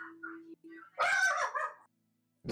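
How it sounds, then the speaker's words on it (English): A dog gives a sharp burst of barking with a yip-like whine before it, heard alone in an otherwise quiet room. "There's the dog."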